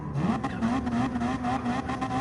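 A Gr.3 Mitsubishi race car in Gran Turismo 7 revs steadily at Tokyo Expressway before a qualifying start, its engine holding a sustained buzzing drone throughout with light rises and dips in pitch.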